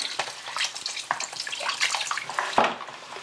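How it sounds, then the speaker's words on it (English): Warm water poured from a container into a stew pot of oil-coated potatoes, a steady splashing gush lasting a few seconds, close and fairly loud with no talking. "get some warm water and just add that in"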